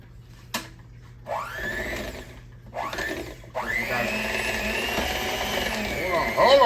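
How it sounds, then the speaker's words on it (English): A small electric hand mixer beating creamy icebox cheesecake filling in a bowl, its motor whine starting in short bursts before settling into a steady, close run. "I'm just gonna use a little hand mixer here."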